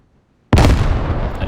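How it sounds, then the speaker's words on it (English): Enemy mortar fire in a tactical military shooter, a sudden loud close blast after near silence, followed by a sustained rumbling roar and crackle that slowly fades. "Enemy mortars on orchard"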